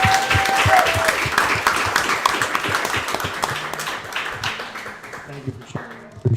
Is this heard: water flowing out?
no